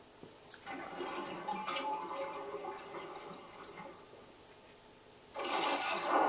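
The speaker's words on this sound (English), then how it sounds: "Let's pull the plug here. It's full of dirty water." Dirty water draining from a pulled plug in the Resident Evil GameCube remake, a steady gurgling rush that swells at the start, runs for several seconds, then surges loudly again near the end, with no talk.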